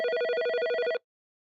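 An electronic telephone ringtone trills in a rapid, steady warble for about a second, then stops abruptly into silence.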